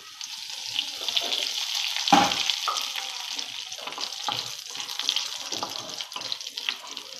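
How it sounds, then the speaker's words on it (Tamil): Dried red chillies and curry leaves fry in hot oil for coconut milk rasam. A close, continuous crackling sizzle flares sharply as something drops into the pan partway through, then settles into steady frying. "கொஞ்சம் இந்த எண்ணெயில் காஞ்ச மிளகாவும் கொஞ்சம் பொரியட்டும்"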